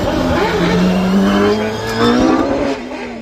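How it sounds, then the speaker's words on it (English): V8-engined OMS race car at the Craigantlet hillclimb, engine grown from 2.7 to 3.2 litres: loud, close engine note rising and falling through the revs, with a sustained high-pitched whine. "That is Trevor Willis in a V8 OMS"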